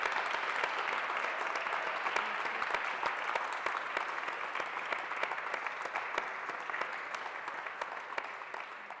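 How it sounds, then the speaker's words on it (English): Sustained applause from an audience at the Mayor of Hackney's Music Award ceremony, a dense wash of many hands clapping for several seconds, fairly distant and even, slowly fading near the end. "Can we have another big round of applause for Anne?"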